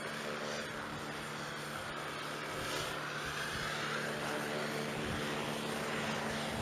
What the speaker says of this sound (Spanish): El helicóptero de la Policía Nacional.